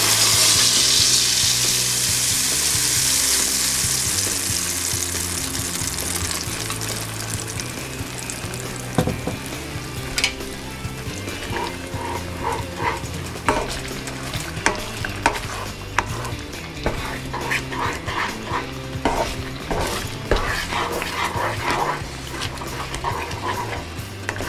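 Doña María adobo paste frying in oil in a pot, a close steady sizzle that starts loud and settles into crackling and spattering, with stirring scrapes and clinks throughout.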